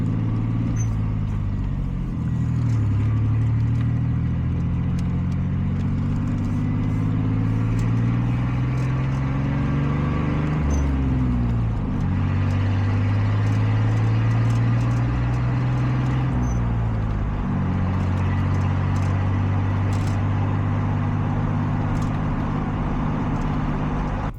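A lowered Chevrolet OBS pickup truck cruises along with a steady low engine drone and road rumble, the engine pitch rising and falling through several gear changes and accelerations.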